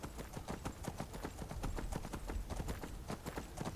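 Horse hooves clip-clop at a steady, even trot in Skyrim Special Edition, crossing freezing terrain toward Dragon Bridge; the close, crisp strikes repeat continuously with no other sounds.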